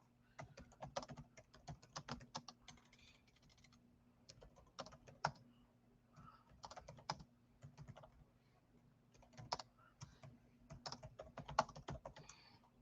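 Computer keyboard typing comes in quick bursts of clicking keystrokes separated by pauses, close and fairly quiet over a low steady hum.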